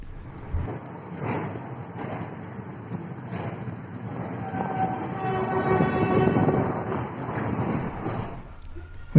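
A train at Shoranur railway junction rumbles steadily nearby, its low noise swelling and fading with faint clanks and a long horn tone, and no voices.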